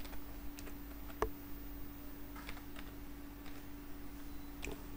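Someone types on a computer keyboard at a desk, producing soft, sparse key clicks and taps scattered over several seconds against a quiet electrical hum.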